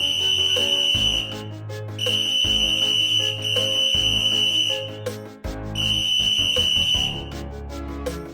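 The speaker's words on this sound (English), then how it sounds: "Guard blew his whistle until he had no more breath, and waved his flags until his arms ached." A railway guard's whistle sounds in long, shrill, steady blasts, four of them separated by short pauses, with music playing underneath.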